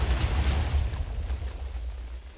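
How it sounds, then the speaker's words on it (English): Booming explosions fired from a shooting item in a modded Minecraft world, a dense rumbling burst of deep blasts that rolls on continuously, loud and close, with no voices. "it will shoot loads of explosions."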